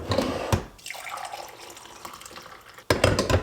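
Half and half poured into a cup of coffee in the morning, a splashing liquid pour that starts and stops, then resumes louder near the end, heard up close with no talking.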